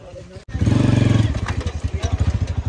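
A motorcycle engine kicks into life with a thump and settles into a loud, close, rhythmically pulsing idle that throbs steadily for a couple of seconds.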